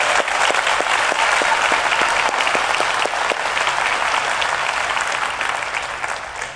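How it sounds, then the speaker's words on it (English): Loud, sustained applause fills a DEF CON hacker conference hall, a dense steady wash of many hands clapping that stays strong throughout and eases slightly toward the end. "Let's give Sci-Fi a big round of applause and Deaf Time Kids."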